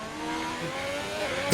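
High-pitched engine of a Haas Formula 1 car in a racing video game whines steadily and climbs as it revs, loud and continuous, ending with a short sharp burst.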